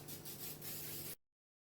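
Edible glaze spray hisses onto a fondant-covered cake in a few short bursts, close and fairly loud, then cuts off abruptly into silence.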